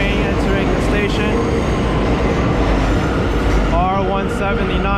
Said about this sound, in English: There's a J train entering the station.